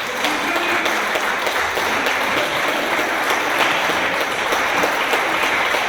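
A crowd applauds a hero of the day at a celebration, with thick, sustained clapping from many hands that stays even and loud from start to finish.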